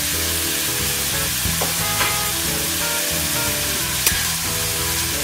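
Onions and smoked sausage frying in a pan, a steady loud sizzle with faint stirring scrapes and occasional clinks, without any voices.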